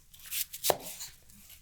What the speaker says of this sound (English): until I finish chopping all of this